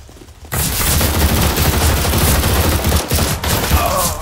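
Sustained gunfire in Counter-Strike: Global Offensive erupts after a short quiet moment and continues loud and dense as a rapid volley, with only brief gaps near the end.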